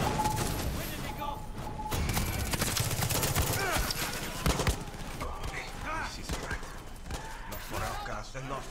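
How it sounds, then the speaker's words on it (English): Shootout gunfire in Far Cry 6: dense, continuous crackling rounds and bursts amid busy game noise, with steady loud clatter throughout and a few sharper hits standing out. "Guns a-blazing"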